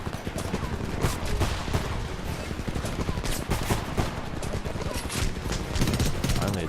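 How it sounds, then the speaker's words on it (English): Gunfire in the video game Homefront: dense, rapid bursts of shots that keep up without a break, loud and close, with a voice speaking over the shooting. "Quit shooting me."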